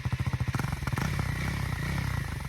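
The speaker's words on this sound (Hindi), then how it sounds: "आप देखो कम RPM पे कैसे आवाज़ आएगी" A 2024 KTM Duke 390 motorcycle engine idles at low RPM with a steady, low, pulsing rumble, then rises slightly in pitch, loud and close with no voices.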